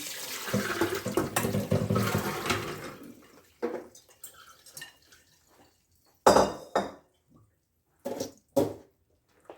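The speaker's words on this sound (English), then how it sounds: "I'm going to go ahead and pour them in the colander and get the water off of them." Soaked beans and their water tipped into a colander: a rushing pour for about three seconds, then scattered drips and a few sharp clatters of beans and metal.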